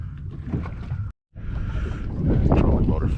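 Low steady hum of a boat's electric trolling motor at a low speed setting, running continuously under wind and water noise while fishing for fluke in rough tide, with a brief dropout midway.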